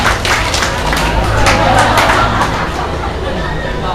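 A congregation at a church anniversary service claps together, a loud, dense patter of many hands mixed with crowd murmur and voices, fading slightly toward the end.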